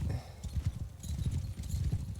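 Massed cavalry horses gallop in a charge in Mount and Blade 2 Bannerlord, a dense, continuous drumming of hooves that is loud and close throughout.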